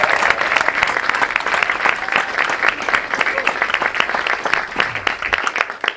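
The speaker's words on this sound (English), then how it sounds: "let's give them a round of applause because they need energy from you" Sustained audience applause for a community choir performance, a dense steady patter of many hands clapping at fairly close range with a few voices mixed in, continuing throughout.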